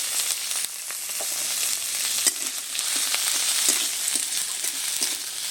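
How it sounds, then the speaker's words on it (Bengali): Chopped tomato frying with onion and ginger-garlic paste in a pan, a steady close hiss of sizzling broken by scraping strokes and soft knocks as the mixture is stirred. "টমেটো কুচি দিয়েছি, নেড়ে চেড়ে নিচ্ছি"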